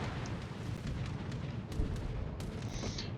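Heavy ship gunfire in a naval warfare video game, a dense barrage of booming shots layered over continuous rumble, loud and close with a few sharper cracks standing out.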